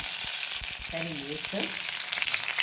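Garlic fries in hot oil in a pan, a loud, steady crackling sizzle close by, with a brief tonal clatter of utensil against the pan partway through.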